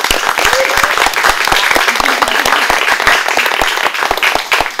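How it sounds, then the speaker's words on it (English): Audience applause at the close of an evening dance discussion event, made of brisk, crisp individual claps from a modest crowd, close and lively, continuing evenly throughout. "So I want to have a big round of applause for them."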